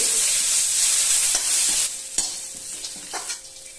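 Dry coconut and coriander leaves fry in a pan for a drumstick gravy, loud close sizzling with several scraping stirs of a spatula, easing off toward the end, with no talking.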